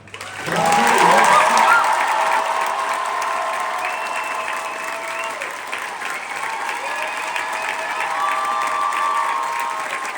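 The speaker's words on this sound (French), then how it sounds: "je vais juste vous demander de finir par un tonnerre d'applaudissements pour cette équipe de fous" Sustained audience applause at the curtain call of Monte Cristo, a stage musical, a dense wash of clapping with some cheering from a large theatre crowd, loud and continuous for the whole stretch.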